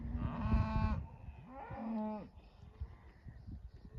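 Cattle moo twice at a farm gate while being moved: a long, loud, harmonic low at close range, then a second shorter moo, followed by quieter outdoor rustling and background noise.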